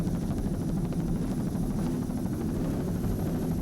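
A steady, close rotor and turbine drone from a helicopter shooting an offshore powerboat race off Chicks Beach, with a 29-foot Fountain racing below; the dense low rumble holds unbroken from start to finish, with no talk.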